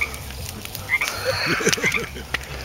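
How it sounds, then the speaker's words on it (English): A frog croaks repeatedly near a pond outdoors, the short rasping calls fairly close and clear over a constant low background hum, with no one speaking. "where do you hear the frog? At the moistest spot in the whole place."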